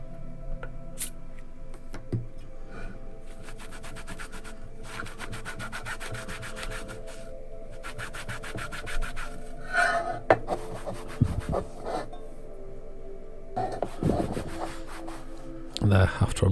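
Steady rubbing and scrubbing of 40 years of grime off a Harrier CB radio casing with isopropyl alcohol, continuous close strokes with a few sharper knocks and handling bumps near the end.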